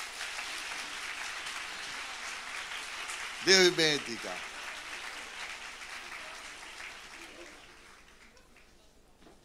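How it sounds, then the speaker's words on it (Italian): Church congregation gives sustained, fairly quiet applause of encouragement, and a single voice calls out briefly partway through before the clapping fades toward the end. "Andiamo a fare un applauso di incoraggiamento."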